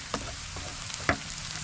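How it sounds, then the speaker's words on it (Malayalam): Crushed dried red chillies sautéing in a pan for a Kerala parippu curry, a soft continuous sizzle broken by a few brief scraping stir strokes, fairly faint and with no talking. "നന്നായിട്ടൊന്ന് വഴറ്റിയെടുക്കാം."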